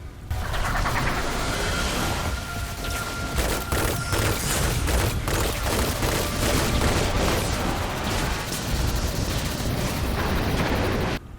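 Sustained heavy gunfire and booming blasts from a firefight in Destiny 2, with scout or sniper rifle shots aimed at droids, dense and loud throughout with no pauses.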